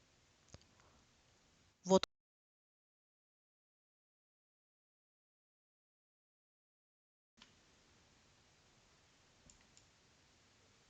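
Sparse computer mouse clicks while signing in on a website: a few faint, isolated clicks with near silence between them.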